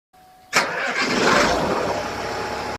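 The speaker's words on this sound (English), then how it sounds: "heavy diesel engines roared from the end of the road" Heavy diesel engines start up with a sudden burst, then roar on at a steady, loud, rumbling level from close by.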